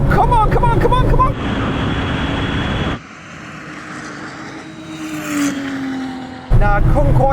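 Porsche 911 Turbo engine roaring loud and close under hard drag-race acceleration, pitch climbing through gears with a sharp drop at a shift, a voice at the start and end.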